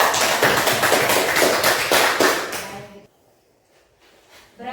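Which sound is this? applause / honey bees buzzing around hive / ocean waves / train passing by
applause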